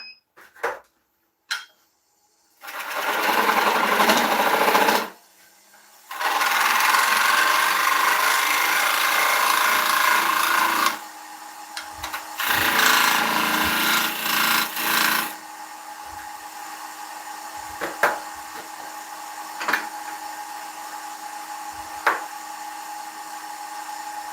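A skew chisel cuts a willow tenon on a wood lathe with loud, sustained scraping and shaving bursts, separated by brief pauses and followed by lighter intermittent cuts and taps.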